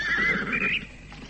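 A horse whinnies once, a shrill quavering neigh close by that fades within a second, with no voices over it.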